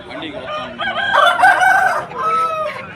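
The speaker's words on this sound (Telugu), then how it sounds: "కోడిపుంజు అయితే చాలా బాగుంది" A rooster crows once, close and loud, in a long, drawn-out call lasting a few seconds, at a poultry market in Nallapadu.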